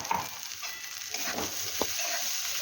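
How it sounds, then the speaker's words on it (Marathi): Soaked kurdai crumble added to onion and chutney frying in oil, giving a soft, continuous sizzle with light stirring and a brief clatter, heard close with no talking. "आता यामध्ये आपण कुरडईचा भिजवलेला भुगा ओतून घेऊया"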